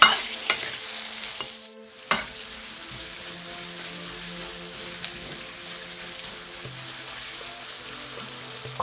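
Onion and capsicum stir-fry in a pan over a high flame, giving a steady crackling sizzle with scraping stirring strokes. A sharp burst comes early, then the frying settles into a constant hiss.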